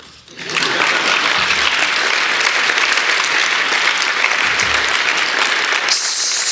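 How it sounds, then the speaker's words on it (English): Event audience applause, a loud, dense wash of many hands clapping that rises quickly and stays steady and full for about six seconds. "You can clap now."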